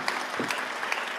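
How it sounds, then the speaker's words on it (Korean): A church congregation applauds during a Sunday service. Steady, soft applause fills the room, with no clear voices over it. "박수."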